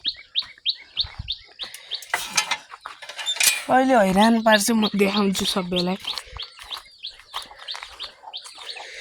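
Young chicks chirp in quick, high repeated peeps throughout, loud and close, while someone talks over the middle stretch.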